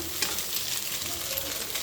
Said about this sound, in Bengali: ডিমটা ভেজে আলুর সাথে মিক্স করে নেবো এইভাবে